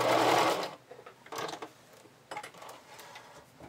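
A sewing machine back-tacks elastic onto a bra in short bursts, with a longer run first and then two brief stitching spurts, close and fairly quiet.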